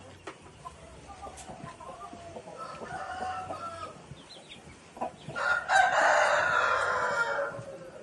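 Chickens and roosters on a poultry farm, with clucking through the first seconds and then a loud, close rooster crow rising over the rest of the flock, with a little faint background talk.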